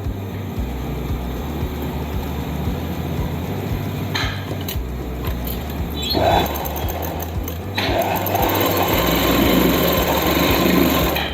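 A sewing machine runs steadily, stitching the leg seam of palazzo pants. The motor whirs with a continuous buzz, close and loud, and briefly pauses and changes pace before speeding up again toward the end.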